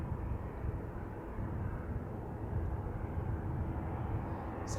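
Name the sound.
Boeing 737-700 aircraft at Manchester Airport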